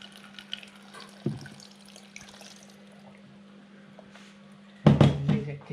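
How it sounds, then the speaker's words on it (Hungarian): Filtered water poured into a glass jar of beetroot kvass, a steady close trickle running throughout with a brief splash near the start and a louder gush near the end. "Feltöltöm szűrt vízzel."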